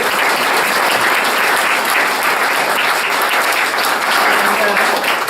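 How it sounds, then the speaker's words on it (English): An audience at an annual chamber of commerce meeting gives a round of applause, dense steady clapping from many hands filling the room for several seconds, loud and continuous. "So would you please give him a round of applause?"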